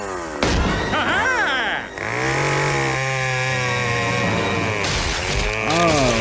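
A chainsaw runs loudly up close in the animated show Family Guy, its whining pitch climbing and dropping as the throttle is worked.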